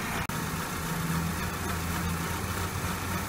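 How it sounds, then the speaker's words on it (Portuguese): A 2010 Peugeot 207 XRS engine idles with the hood open, a steady, even low hum with a faint mechanical buzz, close and continuous throughout. "esse é o motor do 207 aí em funcionamento."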